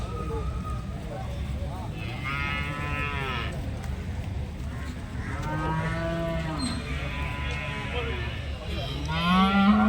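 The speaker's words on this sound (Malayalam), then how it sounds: "നല്ല കറവ് പശുക്കളുണ്ട് അടിപൊളി കറവ് പശുക്കൾ" Dairy cows at the Vaniyamkulam cattle market low repeatedly: three or four long, drawn-out moos at moderate distance rise over a constant rumbling market background, with a closer call at the end.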